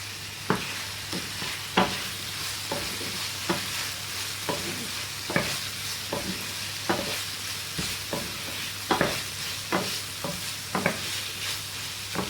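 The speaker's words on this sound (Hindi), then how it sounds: "1 मिनट कम से कम हरी मिर्चों को भूनना है इसमें।" Green chillies fry in a pan with a steady sizzling hiss, punctuated by sharp, irregular scraping clacks of a spatula stirring them, close and moderately loud.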